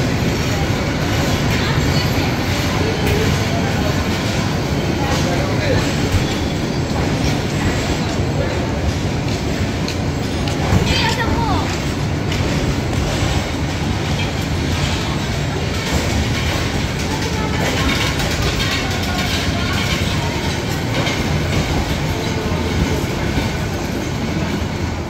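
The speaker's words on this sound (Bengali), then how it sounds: "আর ট্রেনটি ছুটে চলছে তার গন্তব্য ঢাকার উদ্দেশ্যে" The Jayantika Express heads toward Dhaka with a loud, steady rush of rail noise and rhythmic clickety-clack of the wheels, heard up close for the whole stretch, with faint voices now and then.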